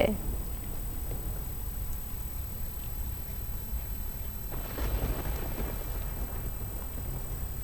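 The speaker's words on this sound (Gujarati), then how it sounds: "જોરદાર વરસાદી માહોલ ડાકોરમાં ધોધમાર વરસાદ" Steady heavy rain hisses throughout in Dakor, Kheda, with a brief louder surge midway, like a downpour growing heavier for a moment.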